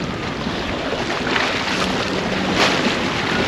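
On a small sailboat in rough seas with waves around a metre and a half high, steady wind roars across the microphone over the constant rush and slap of water.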